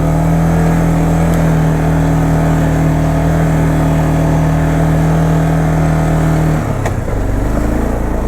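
A 2001 Arctic Cat 400 4x4 ATV running in full-time four-wheel drive on ice with worn tires, giving a loud, steady, close engine drone that shifts pitch near the end, no talking.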